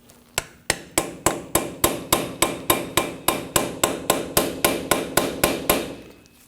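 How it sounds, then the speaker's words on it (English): Steady series of about eighteen sharp metallic taps, hammering a flathead screwdriver to pry the dust cap off the front axle nut of a 2009-2014 Ford F-150, evenly spaced, close and loud with no talk. "Just give it some taps while prying out on it."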